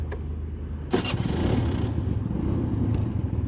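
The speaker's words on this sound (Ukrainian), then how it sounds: "Ну, робота двигуна ідеальна." A Honda Gyro X three-wheeled cargo scooter engine starts up and settles into a steady, close idle, its low chugging rhythm continuing evenly to the end.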